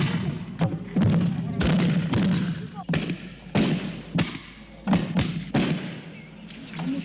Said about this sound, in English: the salutes of these unique kerosene vapor-powered guns, are just the village of Vatakarasa's traditional way of welcoming an honored guest